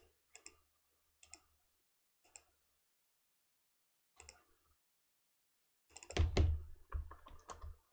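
Computer mouse clicks and keyboard typing during work in OpenModelica modelling software: several isolated close clicks spaced out, then a quick burst of busier typing and clicking near the end, no speech.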